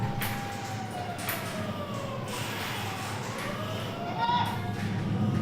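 Wailing sirens of emergency vehicles, fire engines near a fire station in Fleury-Mérogis, sweep up and down through a dense noisy background, overlapping tones rising and falling under a faint murmur of activity.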